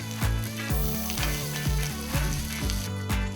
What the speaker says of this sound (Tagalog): Sa parehong kawali, igigisa ang bawang, luyang dilaw, sibuyas,